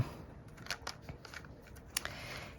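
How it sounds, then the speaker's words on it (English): Paper shaker card pieces slide into a paper envelope with soft papery rustles and a few light crinkling ticks, close and quiet, with no talking. "I'm just gonna slide all this stuff inside this envelope"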